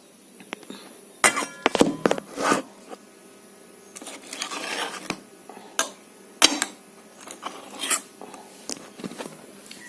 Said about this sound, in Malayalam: നമുക്കിനി ഇത് ഒന്ന് സൈഡൊക്കെ ഒന്ന് ഇളക്കി കൊടുക്കാം